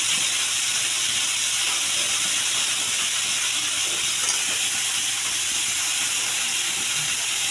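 Water boils in a covered pot on a gas stove, giving a steady close hiss and rushing steam that runs evenly without pause.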